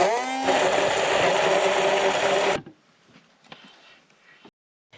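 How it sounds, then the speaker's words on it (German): A kitchen blender whirs loudly at a steady pitch while blending a spicy tomato chutney, its motor holding for about two seconds before cutting off sharply into quiet with faint clicks and handling noises. "dazu gibt's ein würziges Tomatenchutney aus dem Mixer."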